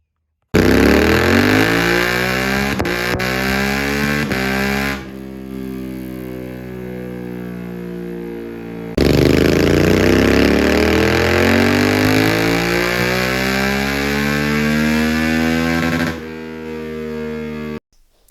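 A Suzuki GSX-8S motorcycle with a Lextek full exhaust, loud and close, revving in two long sweeps that climb steadily in pitch, each dropping back to idle, with no talking.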